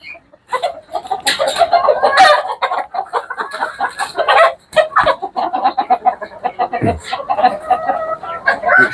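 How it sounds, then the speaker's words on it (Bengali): Chickens cluck and squawk loudly and agitatedly close by while being held, in irregular bursts, with some flapping and brief voices mixed in. "মুরগিগুলো শক্ত করে ধরো অনেক শক্তিশালী তো"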